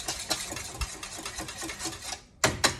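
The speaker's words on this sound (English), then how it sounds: "We're going to combine these together along with my salt and pepper, and I'm just going to whisk this until smooth" Eggs, yolks, salt and pepper are whisked in a bowl, the whisk clicking and scraping in quick, rhythmic strokes that stop briefly and then resume, close and fairly quiet.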